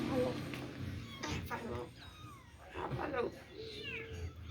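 A kitten with a striped, multicoloured tail meows several times, short and fairly close, while people talk over and around the cries.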